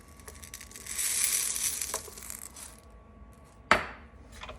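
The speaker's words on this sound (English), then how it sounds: "You can stir this in or just lightly mix." Chocolate chips and mini M&Ms being stirred into thick cookie bar dough, giving a soft, steady crunching and scraping that rises and fades, then one sharp, close knock near the end.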